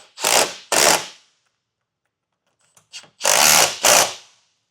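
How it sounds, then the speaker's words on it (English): A power tool with a 13mm socket runs bolts down on running board brackets, making two loud, close bursts, then a pause with faint clicks, then two more bursts, with no talk. "now we can tighten it down with a 13mm socket"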